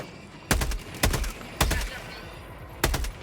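Four loud bursts of gunfire in Helldivers 2, fired at a flying saucer, each a short sharp volley spaced about half a second to a second apart, with no talk over them.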